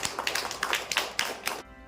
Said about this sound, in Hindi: जोरदार ताली के साथ उनका इस्तकबाल।